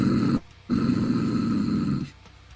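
A man growls in his throat to imitate an animal, one short rough burst and then a longer sustained rumbling growl, close and fairly loud, before it trails off.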